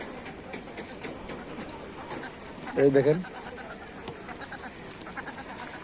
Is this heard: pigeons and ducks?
yes